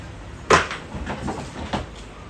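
A wardrobe door being handled while the wardrobe is assembled: a sharp wooden knock at the start, a few softer rattles, then another clunk, close and fairly loud with no talking.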